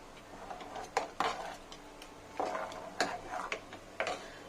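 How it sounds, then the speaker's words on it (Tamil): Soft metallic scrapes and clinks of a spoon stirring soya chunk gravy in a pot, irregular and close, with quiet pauses between strokes. "இப்போ நல்லா கலக்கி விட்டுறலாம்."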